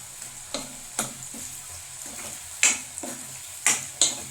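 Sizzling oil in a pan while whole spices fry toward red for a Telugu chicken curry, with a steady hiss broken by repeated scraping strokes of a spoon stirring close by.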